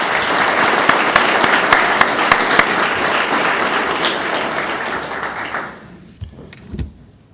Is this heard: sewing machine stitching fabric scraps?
no